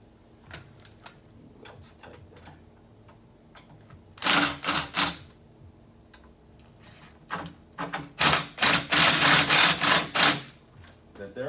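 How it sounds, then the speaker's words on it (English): Screws being driven into a vinyl fitting during assembly, with short bursts of buzzing power-driver whir, a pair early on and a longer cluster later, between faint clicks and handling noises, close to the microphone. "Screw it in there."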